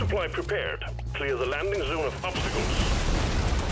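Explosions in the video game Deep Rock Galactic Survivor, a burst of booming blasts erupting loudly after game music and effects.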